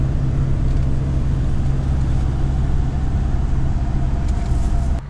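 A VIP bus drives along a road in northern Laos, its engine giving a constant deep hum with road rumble throughout, heard from inside the cabin, ending with a brief change in tone.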